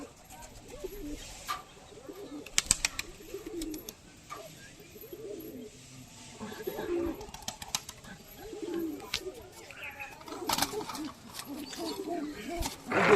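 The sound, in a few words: Punjabi pigeons cooing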